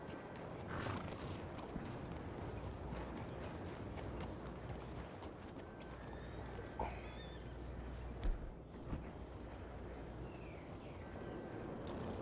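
Horse in the video game Red Dead Redemption 2, with whinnies and clip-clop hooves over a steady dense game ambience, plus a couple of brief louder bumps near the end.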